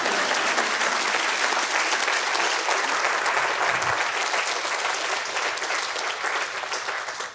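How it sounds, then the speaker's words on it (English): Sustained applause from an audience at an event honoring fifty years at Anderson, steady dense clapping that holds loud throughout and tapers slightly at the end. "it's okay to applaud if you wanted to now"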